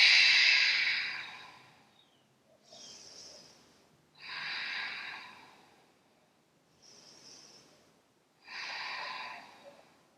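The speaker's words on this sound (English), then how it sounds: "Last round of breath, really heavy on that exhale." Heavy, breathy yoga breathing with long, forceful exhales: five slow breaths, each a few seconds long, alternating louder airy exhales with softer inhales, close to the listener with no other sound.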